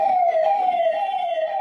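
Ambulance siren at a city civil hospital in Vadodara, a loud, steady wailing tone that slides slowly downward as the vehicle passes close by, heard alone.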